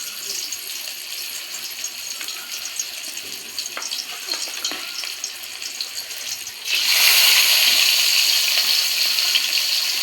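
Fish frying in a hot wok spits and splutters as a steady crackling hiss that suddenly swells louder and denser partway through, with no voices.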